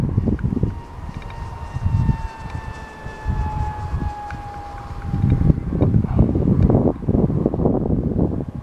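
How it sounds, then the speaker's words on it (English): Wind gusting and buffeting outdoors, a rough low rumble that rises and falls, louder in the second half, with a faint whining tone drifting across. "the wind's coming from a really awkward angle today."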